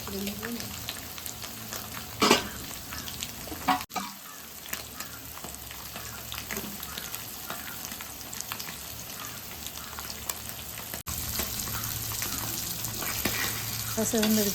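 Fish sizzling and frying in a pan for a fish fry curry, a steady crackling hiss throughout with occasional stirring or handling knocks.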